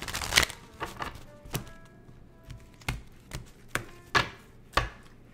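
Tarot cards being shuffled in short bursts, a series of sharp riffling snaps and taps spaced irregularly, close and fairly quiet.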